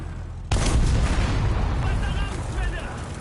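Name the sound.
tank turret blowing off in War Thunder video game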